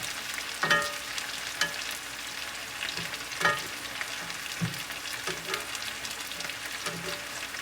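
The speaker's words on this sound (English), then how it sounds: "You just want to brown them because they're going to finish cooking off in the oven" Oil sizzles and crackles steadily as meatballs brown in a pan, with occasional soft clinks and stirring sounds, fairly quiet and close.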